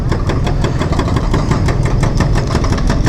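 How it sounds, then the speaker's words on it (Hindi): Heavy machinery tears up an asphalt road surface at a metro construction site on a city street in Rahwali, Gujranwala, giving a loud, continuous engine rumble with rapid repeated thudding impacts throughout. "ये एसफाल्ट सारा उखाड़ा जा रहा है, ठक ठक ठक ठक ठक की आवाज़ आ रही है"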